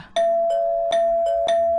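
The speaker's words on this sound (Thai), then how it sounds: "จากนั้น ก็มีเสียงกริ่งดังทีๆแบบรัว" A doorbell rings three times in quick succession, each a bright electronic chime with a sustained tone, close and loud, used as a sound effect in a spoken ghost story.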